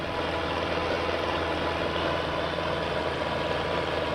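A small farm tractor's engine running steadily, a continuous low, even drone that stays at the same loudness throughout with no talking.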